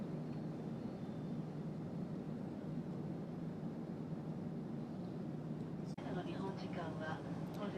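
An Air France Boeing 747-400 airliner cabin gives a steady, moderate broadband roar of engine and air noise, unchanging throughout with one brief click near the end.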